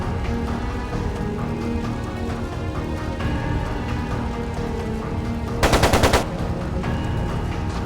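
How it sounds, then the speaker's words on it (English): A single rapid burst of machine gun fire in Trails of Cold Steel II, about half a second of fast rattling shots, cutting loudly through a steady orchestral music bed. "It sounded like a machine gun."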